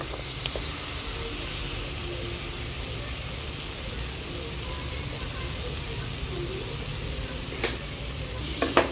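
Paneer butter masala ingredients and cashews fry in a pan with a continuous, close sizzle and hiss, joined by a few spoon scrapes and clinks near the end.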